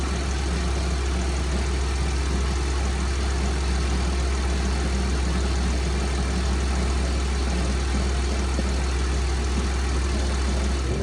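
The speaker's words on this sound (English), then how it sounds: "See, now the fans are working." A Chevy Equinox's radiator cooling fans whir in a steady, unbroken rush over a low engine idle hum, the engine bay hot after a thermostat replacement, with no voices.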